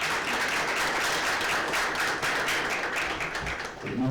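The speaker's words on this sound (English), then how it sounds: "Kudos to you, you deserve a hand of applause." A crowd gives a round of applause, continuous dense clapping that holds steady before easing off near the end.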